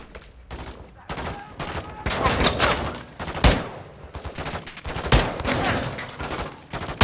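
Gunfire in the video game Call of Duty Modern Warfare II: bursts of shots crackle in irregular clusters, loud and close, with short pauses between volleys.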